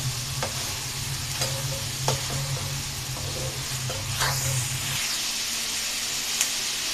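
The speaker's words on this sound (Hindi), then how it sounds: "इसी तरह ही चलाते जाएंगे और इसकी बुनाई करते जाएंगे।" Chicken and capsicum sizzle in oil while a spatula stirs them, with repeated scraping strokes and taps on the pan over a steady frying hiss. A low hum underneath cuts out partway through.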